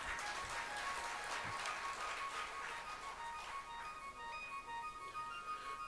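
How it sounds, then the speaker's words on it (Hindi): An audience at a spiritual discourse claps, the applause quiet and somewhat distant as a scattered patter of many hands that gradually thins out. "आप तालियां बजा रहे हैं?"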